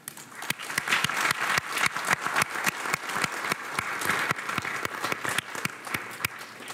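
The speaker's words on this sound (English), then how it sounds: "I wanted to just stop to give a quick round of applause for the hardworking colleagues." Colleagues in a room give hardworking staff a quick round of applause at an anniversary event, a steady, fairly close burst of many hands with sharp individual claps standing out throughout.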